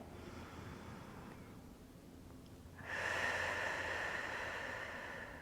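A person drawing a long, deep breath in during a breathing exercise, a steady airy rush swelling midway and holding for a few seconds, close and alone.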